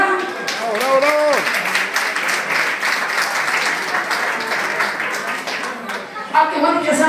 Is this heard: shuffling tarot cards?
no